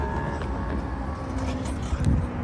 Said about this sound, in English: at least I got a train here in the light